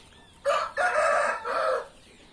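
One rooster crows nearby after heavy rain, a loud call broken into three drawn-out segments over roughly one and a half seconds, with faint background noise before and after.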